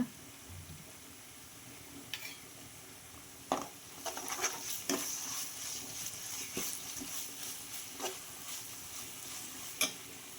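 Ginger garlic paste stirred into onions frying in a pan for an egg curry gravy, with a steady sizzle and repeated scraping and tapping of the spoon, close and without talk.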